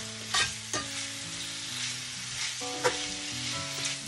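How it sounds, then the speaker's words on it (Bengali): Chicken pieces frying lightly in a pan for a homemade chicken pizza, giving a steady soft sizzle with a few sharp clinks and stirring scrapes, close and without talk. "জাস্ট হালকা করে একটু ভেজে নেব।"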